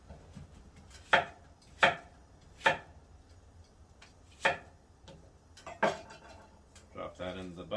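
A knife chops half an onion into quarters on a cutting board, with about six sharp, separate knocks at uneven intervals, close and clear, then faint kitchen noise.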